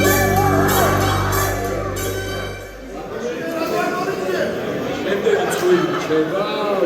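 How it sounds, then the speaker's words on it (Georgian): A crowd cheers and whoops for a couple at a celebration, with a sustained tonal swell at first, then lively mixed shouts and chatter that keep going. "ბატონ გიორგის და ნინოს მიულოცოთ აპლოდისმენტებით."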